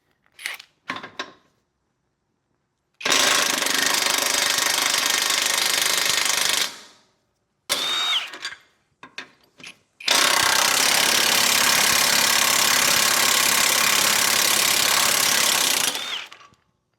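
Impact wrench unbolting a control arm support on a Jeep Renegade: a few short taps, then two long loud bursts of rattling hammering, each several seconds, separated by brief quiet and small clicks.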